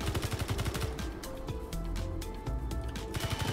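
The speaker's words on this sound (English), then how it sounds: "Did you hear the gunfire from over there?" Rapid gunfire in the video game Space Engineers, dense repeated bursts of shots crackling steadily over game ambience with no talk.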